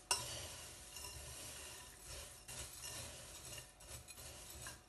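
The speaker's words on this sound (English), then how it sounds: "then stir everything up together" A granola mixture with dried cranberries is stirred in a bowl, making quiet, irregular scraping and rustling with a few light clinks of the spoon, close and faint with no talking.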